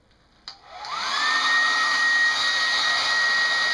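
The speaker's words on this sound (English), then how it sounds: "So I'm going to turn on my blow dryer. It's going to be quite loud" A click, then a hair dryer whirs up to speed and keeps blowing with a steady high whine, loud and close, used to melt crayons.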